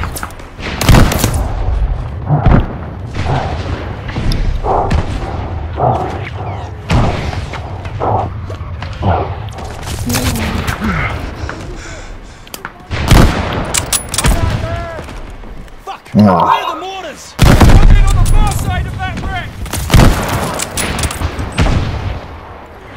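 Mortar fire in the Call of Duty Vanguard campaign: heavy booms and volleys of gunfire, loud and close, scattered through the clip amid battlefield noise and occasional shouted voices.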